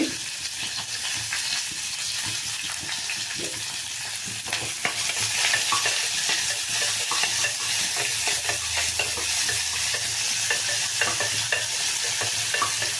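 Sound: onion and curry leaves frying in a pan

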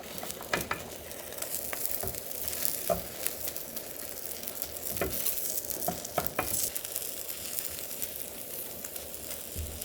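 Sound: seaweed rolled omelette cooking in pan on low heat

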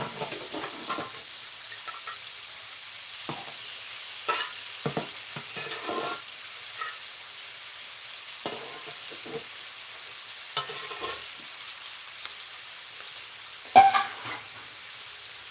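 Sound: frying cluster beans with onions, cumin, curry leaves and green chillies

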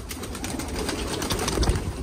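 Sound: pigeons cooing

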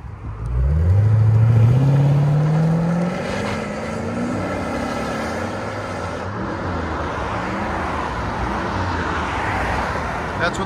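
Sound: Lexus RC F 5.0L V8 exhaust, Valvetronics valves closed, driving off

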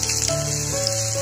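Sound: chopped onion frying in cooking oil

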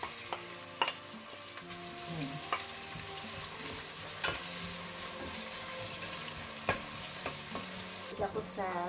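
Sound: onion frying in a pan

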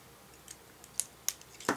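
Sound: trimming wire for tulle butterfly wings

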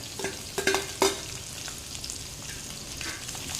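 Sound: onions and curry leaves sautéed and stirred in hot oil

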